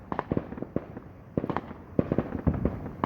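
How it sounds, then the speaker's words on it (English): Fourth of July fireworks burst in a rapid irregular series of sharp cracks and pops, some clustered, heard from a distance outdoors with no talking. "I will be recording some of these amazing fireworks from my view."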